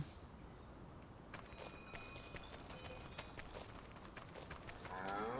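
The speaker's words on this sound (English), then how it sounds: "There's our cows." Cattle mooing in Farming Simulator 25 at a central farm barn with mixing and silage areas, several low moos over a steady background hum with faint hoof and footstep sounds, no talking.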